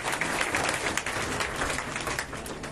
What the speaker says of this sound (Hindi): आप सभी लोग ताली बजाएं उनके लिए।